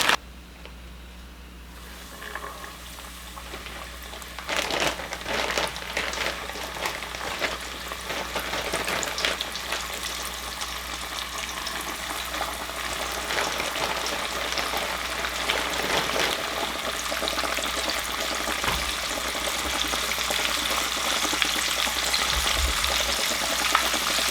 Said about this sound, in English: put our pieces of chicken right in this bag to coat them, and then put them directly into the oil.